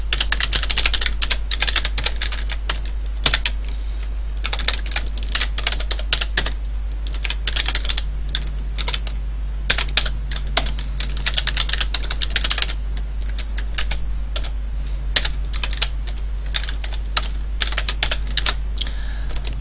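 Steady computer-keyboard typing as code is entered for a simple C# hello world program: continuous close clicking in quick bursts with short pauses, no voices.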